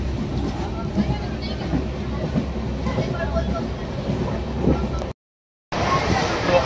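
A Darbhanga–Kolkata Express rumbles steadily along the rails, heard from inside the train as a continuous low roar with faint rhythmic clatter and a brief dropout near the end.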